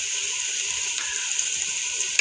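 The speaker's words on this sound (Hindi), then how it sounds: "और इसको अच्छी तरह से चम्मच के साथ मिक्स कर देंगे।" Ginger, garlic and red chili paste sizzles loudly and steadily in a hot pan for fish curry while a spoon stirs it, with a faint scrape of the spoon.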